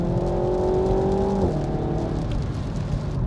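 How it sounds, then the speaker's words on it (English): A car engine drones loud and steady, its pitch holding high and then dropping sharply as a gear goes down before a corner, settling into a lower hum as it pulls on. "Drop a gear before the corner, roll into the throttle through the corner"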